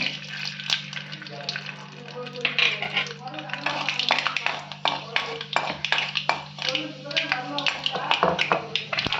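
Mustard seeds and fenugreek crackle and splutter in hot oil, a steady run of sharp pops close by, while a person talks over them.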